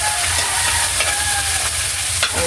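Tomatoes fry loudly in a pan of leftover dried-fish oil, a steady dense sizzle with occasional stirring scrapes, close up and continuous without speech.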